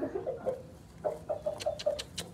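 A young pigeon, injured after a crow attack, gives a quick series of thin, squeaky peeps in a steady rhythm, close by and fairly quiet.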